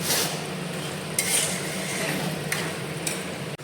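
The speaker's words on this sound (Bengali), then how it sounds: "এই যে মশলা কষানো চলছে এখন" A spice masala is stir-fried in a pan, heard as a steady close sizzle with a few light spatula scrapes and taps against the metal.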